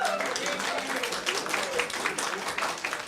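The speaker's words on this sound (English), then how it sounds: "The courtroom was full and erupted into cheers and applause after the verdict came down." A packed courtroom erupts in steady applause and cheering after a guilty verdict is read, a continuous wash of clapping hands and raised voices throughout.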